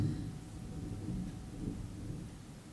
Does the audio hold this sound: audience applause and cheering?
no